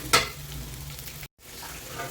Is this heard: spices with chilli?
yes